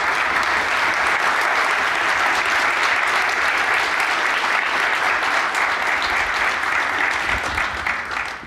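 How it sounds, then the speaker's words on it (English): A mainstage conference audience in Halifax claps for its partners, a thick, even wash of applause that holds steady for several seconds and tapers slightly at the end. "Can we just put our hands together for the partners?"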